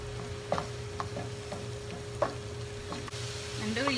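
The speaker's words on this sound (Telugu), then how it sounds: "వేడయ్యాక ఈ జింజర్ గార్లిక్ పేస్ట్ వేసేసి ఫ్రై చేసుకుందామండి" Ginger garlic paste and green chillies frying in hot oil, giving a soft steady sizzle with a handful of sharp spatula taps and scrapes against the pan, fairly quiet, no speech.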